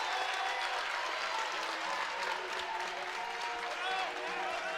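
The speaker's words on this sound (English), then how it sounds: "You have one side booing and one side cheering." A women's basketball crowd reacts in a gym, a broad roar of mixed cheering and booing that swells and holds steady under a commentator's voice.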